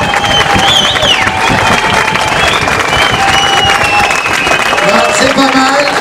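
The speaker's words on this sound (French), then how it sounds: "on applaudit très très fort avec les pieds, avec les mains, comme Rainer sait le faire" Festival audience at an international film festival in Contis applauding loudly, with dense clapping, foot stomping and cheering, while some voices rise through the din; the noise stays full and constant throughout.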